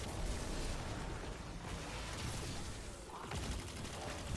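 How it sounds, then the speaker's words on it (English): Gunfire in the video game Destiny 2, rapid bursts of shots and blasts in a dense, continuous barrage, with a sharper crack near the end. "Stop shooting me, it's rude."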